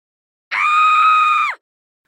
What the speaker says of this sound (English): I screamed.